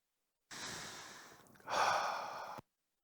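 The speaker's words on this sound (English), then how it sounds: "take a deep breath in" A single slow, deep breath drawn in close to the microphone, soft and airy, swelling louder in its second half before stopping abruptly.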